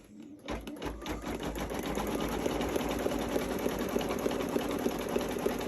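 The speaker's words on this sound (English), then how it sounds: "This is going to be your placement stitch, so this gives you an idea where everything's going to be lined up later." An embroidery machine starts up and runs a placement stitch on stabilizer, a rapid steady mechanical chatter of needle strokes with a rhythmic clicking, close and even after a brief start-up.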